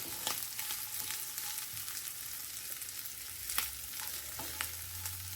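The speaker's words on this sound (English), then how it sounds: "I've got the hamburgers going." Hamburgers sizzle on a grill, a quiet steady crackle broken by a few sharper pops and scraping sounds as the patties char, with no talking.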